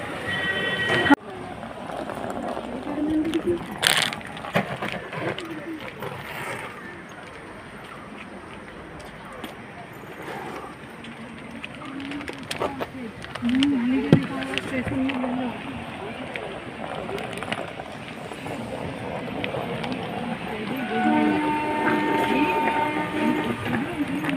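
A MEMU passenger train rumbles along with steady rolling and clattering from the carriages, while a person talks over the noise throughout.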